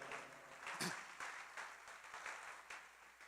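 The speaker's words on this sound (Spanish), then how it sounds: "Dele un fuerte aplauso al Señor." A church congregation breaks into applause at a sermon, a quiet, fairly distant wash of clapping that swells in soft waves over a few seconds.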